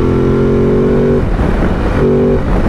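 A Ducati DesertX Rally adventure motorcycle, still being run in, revving below 6000 RPM on the road: a loud, close engine note that holds steady, dips, then rises again in a second rev.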